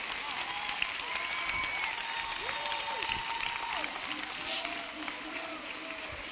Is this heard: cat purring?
no